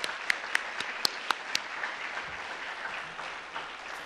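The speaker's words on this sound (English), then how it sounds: "Let's give another round of applause to all the winners and all the entrants." An audience at the 2014 Semmy Awards ceremony applauds in a steady patter of many hands, with a few sharp, close claps standing out, then the clapping fades slightly toward the end.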